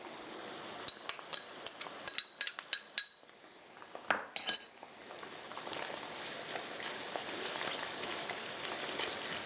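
Tofu, ginger and garlic stir-fry in a pan. A run of sharp utensil clinks and scrapes against the metal comes first, then settles into a continuous, moderately loud sizzle with no speech.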